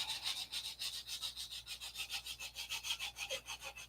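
Sandpaper wrapped around a copper rod rubs back and forth in a steady rhythm of about six strokes per second, a close, continuous rasping scrape with no voices.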